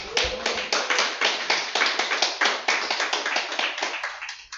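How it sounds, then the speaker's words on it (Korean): A lecture audience at a program on multicultural families claps on request: roughly twenty crisp, evenly spaced claps in a steady unison rhythm, fairly close and clear, tapering off at the end. "박수 한번 해주십시오."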